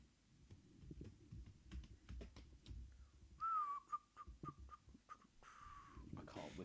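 A person whistles a wavering tune of a few short notes in bursts, clear over background chatter and clatter, with a final rising whistle at the end.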